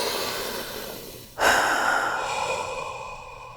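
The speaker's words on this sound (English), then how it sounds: "Big breath." A single big, deep breath drawn in sharply and let out slowly, close and alone, during a guided forgiveness coaching exercise.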